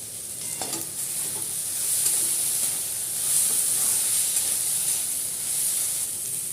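Vegetables frying in a pan for egg drop soupy noodles, a steady close hiss and sizzle with occasional stirring scrapes, no talking.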